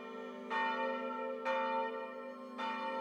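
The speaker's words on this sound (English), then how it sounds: "The local priest would immediately go to sound the tocsin." A village church bell sounds the tocsin, the emergency alarm, with three loud, ringing strikes spaced roughly a second apart, each leaving a long sustained hum that carries on between strokes.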